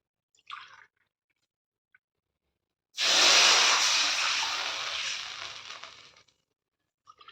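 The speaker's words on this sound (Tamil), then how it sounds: "இப்போ தண்ணி சேர்த்துக்கலாம்." Water pours into hot ghee in a pan while making milk kesari, a steady hissing rush lasting about three seconds after a few faint clinks, then fading out.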